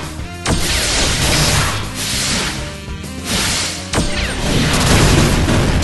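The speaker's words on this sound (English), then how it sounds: "I'm just gonna Hadouken this." Hadouken projectile attacks fired in a video game, heavy booming blasts with whooshing impacts that repeat about three times over a dense, loud wash of game noise.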